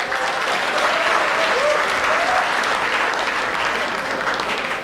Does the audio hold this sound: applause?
yes